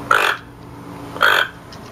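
Two short, rough, croaking alert calls from a toucan about a second apart, close by, with a low hum in the background and no other sounds.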